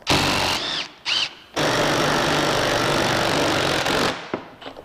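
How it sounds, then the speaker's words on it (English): A bearing puller grinds and strains while working a pulley off a GM alternator, a loud harsh mechanical whirring, broken by brief gaps early on, then running steadily for several seconds before stopping. "Try one of these bearing pullers, see what that does."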